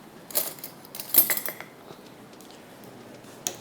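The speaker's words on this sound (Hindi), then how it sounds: "इसको मैं चम्मच से निकालती हूँ" A metal spoon scrapes and clinks against a pan while scooping out spices in a few quick bursts, then quiet rustling, one last sharp clink near the end.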